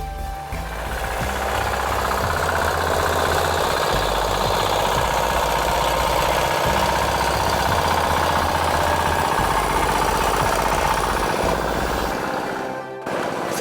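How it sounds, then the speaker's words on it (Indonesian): Pak Odi's farm tractor engine runs close and loud for paddy-field plowing, a steady rapid chugging thump that holds for about twelve seconds before cutting off abruptly. "Setelah menyiapkan mesin traktor miliknya, kami berangkat menuju sawah"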